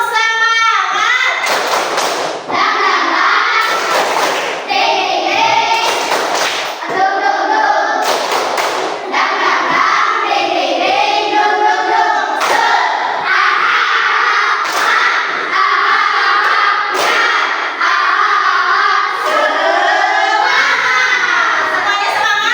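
Classroom group doing the 'tepuk semangat' rhythmic clapping chant, loud patterned bursts of claps alternating with shouted chanting voices, close and energetic, led during a teacher's coaching session.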